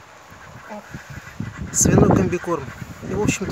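Ducks at feeding time, eating pig compound feed, let out honking quacks close by, growing busier midway and mixed with someone talking over them.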